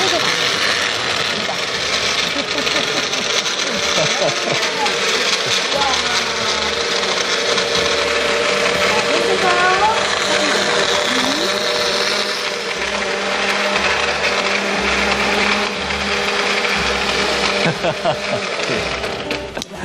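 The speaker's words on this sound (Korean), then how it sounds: "믹서기에 이제 그 수삼 꿀절임과 우유 그리고 이제 얼음이 들어가서 믹서에 이제 갈았는데요." A kitchen blender whirs loudly and continuously, grinding honey-pickled fresh ginseng with milk and ice cubes, the steady motor roar and churning ice filling the whole stretch while a voice speaks faintly underneath.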